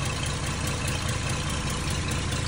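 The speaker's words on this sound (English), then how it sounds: "I'm gonna turn the engine off here" An old abandoned limousine, revived after 32 years, idling with a steady low, rough rumble, close by and continuous with no talk.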